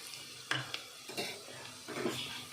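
Onions frying with salt in a pan for kushka, quiet sizzling punctuated by a few clinks and scrapes of a spoon against the pan, close and soft.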